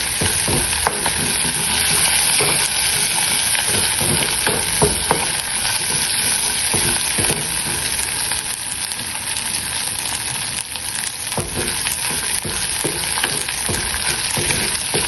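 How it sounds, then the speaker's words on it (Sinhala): Dried red chillies temper in hot oil for a Sri Lankan black coconut curry, a loud continuous frying sizzle with crackling pops and occasional stirring, and no talk. "එකතු කරලා අර වියලි මිරිස් කාරල් දෙකක් විතර මේකට දාලා හොඳට ටෙම්පරාදු කරගන්න ඕන යාළුවනේ"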